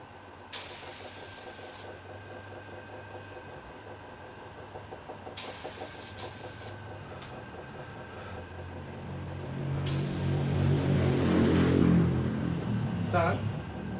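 Paint spray gun driven by compressed air at about 2 bar, three bursts of hissing spray, the last longer and louder, with a person talking between them.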